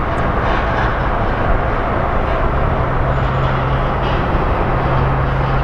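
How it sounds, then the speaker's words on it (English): A Southwest Airlines airliner, flight 594 from Nashville, roars in on arrival at Phoenix Sky Harbor, a loud sustained rumbling engine noise with a low drone, heard from close by and continuous throughout. "So here comes our flight out of Nashville."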